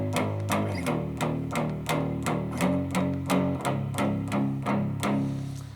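Electric guitar plays a rock riff of bar chords from a song, steady rhythmic strums with distorted, effected tone repeating evenly and close, with no talking.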